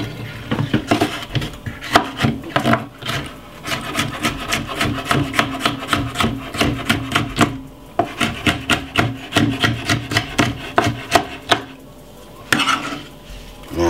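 A knife slicing red pepper on a wooden cutting board for a salad, a fast run of rhythmic close chops with a short pause before the chopping resumes.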